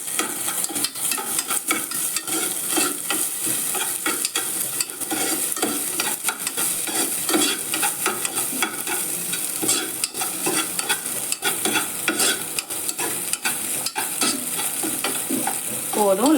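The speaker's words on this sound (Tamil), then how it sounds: "இந்த தேங்காய் நெய்யில் வறுக்கணும்." Grated coconut frying in ghee while being stirred, giving a steady crackling sizzle with scraping strokes of the spoon throughout, close and continuous.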